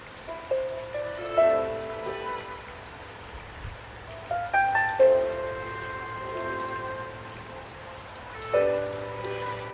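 Steady rain patters in the background while clear ringing tones chime over it in short clusters.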